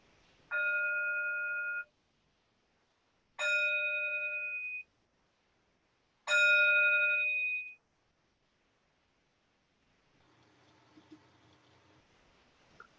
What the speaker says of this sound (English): the ringing of the bell takes us out of that meditation